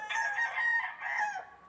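A rooster crows among a batch of imported fighting chickens, a clear mid-distance cock-a-doodle-doo in two drawn-out phrases, with faint background noise and no talk.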